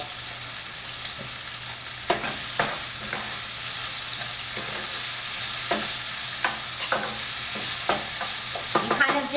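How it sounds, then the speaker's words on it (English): White onions frying with saltfish in a pan for ackee and saltfish, a steady loud sizzle with intermittent scraping stirs and clinks of a utensil throughout, no talk. "You kind of just want to fry this for about 5 to 8 minutes."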